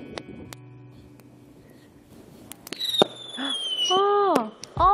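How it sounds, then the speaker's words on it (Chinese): Fireworks set off as a romantic surprise, a few sharp bangs and crackles with whistling rising trails, growing louder toward the end amid quiet outdoor ambience. "哦，烟花！"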